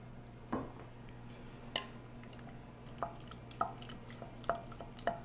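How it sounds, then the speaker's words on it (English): A spoon stirs grated cheese into macaroni and cheese in a pot, giving soft, sparse clinks and scrapes at irregular intervals against a quiet, low hum. "So we're just going to give that a stir."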